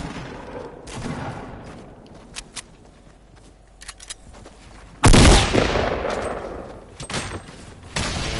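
A loud burst of gunfire from a PS4 shooter game erupts after quieter moments of sporadic distant shots, with a sharp report followed by a sustained blast and decaying rumble.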